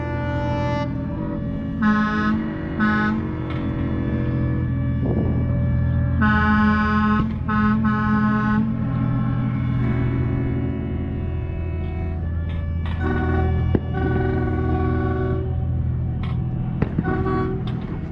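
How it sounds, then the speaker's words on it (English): Several long boat horn blasts sound one after another, overlapping and steady in tone, against a continuous low rumble of engines, in a boat anchorage off Catalina Island at night. "Illegal fireworks. A lot of horns."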